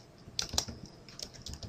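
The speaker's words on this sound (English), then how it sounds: "go to B6 and type in Aurelius Vicky" Light tapping on a computer keyboard as a name is entered into a spreadsheet cell, a quick irregular run of close, quiet keystrokes.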